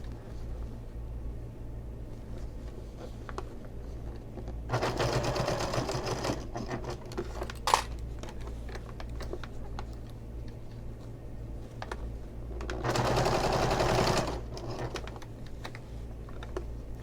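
A sewing machine stitches fabric at a quarter-inch seam for a mini stocking or cutlery holder. It whirs in two distinct rapid bursts over a low background hum, with faint ticks and handling noises between runs.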